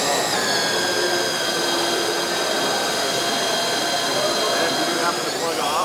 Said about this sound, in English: This 20-volt drill will actually pump about 35 gallons a minute.